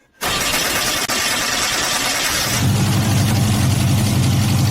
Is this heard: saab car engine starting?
yes